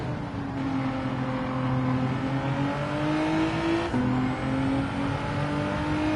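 Race car engines in Gran Turismo 7 with a Ferrari close behind, a steady droning whine with gliding pitch as the engines hold and shift gears, continuous and fairly loud with no talking.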